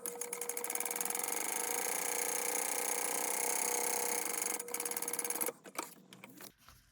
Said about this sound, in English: we are going to sew this on with a 1/4 inch seam allowance